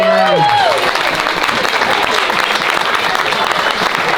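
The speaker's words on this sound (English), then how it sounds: "let's have a round of applause for Erin" Wedding guests applaud after a toast, loud close clapping from a crowd filling the whole stretch, with a voice speaking briefly at the start.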